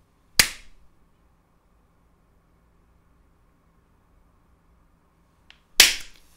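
Two sharp, single hand claps sound close and loud, about five seconds apart, with near silence between them.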